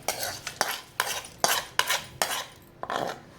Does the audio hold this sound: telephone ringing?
no